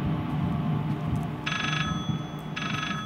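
An old telephone bell rings in the horror game Layers of Fear, two bright electric rings over a low droning ambience, fairly close and clear.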